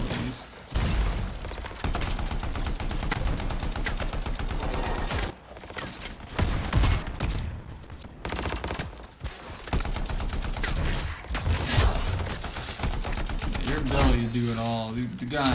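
Gunfire from weapons in the video game Anthem: dense rapid automatic bursts and heavy booms, loud and near, nearly continuous with brief pauses and shifting intensity.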